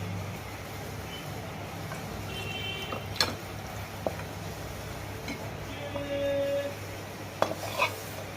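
Hilsa curry with mustard oil and brinjal is poured and scraped out of a pan, giving a few sharp metal clinks and utensil scrapes over a low background hum, with no talk.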